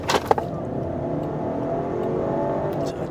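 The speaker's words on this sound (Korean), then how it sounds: "자, 쭉 가속을 해서 자유로 본선에 올라섰고요" A Land Rover Discovery Sport P250 SE accelerating steadily onto a highway, its engine and road noise forming a continuous loud drone heard from inside the cabin, with a few brief clicks near the start.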